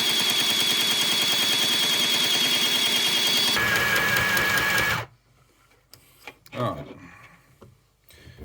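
A Hobbycraft mini sewing machine winds thread onto its bobbin with a loud, steady mechanical whir that shifts pitch partway through, then stops abruptly, leaving a few faint clicks and handling sounds.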